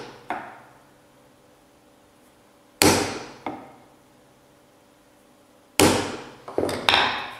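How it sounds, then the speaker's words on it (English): Gentle hammer taps on a center punch marking points on thin aluminium sheet, four sharp metallic strikes with short ringing decays, spaced a few seconds apart, the last ones closer together, close and alone. "Now I'm going to punch the four of those because we are going to drill them later on."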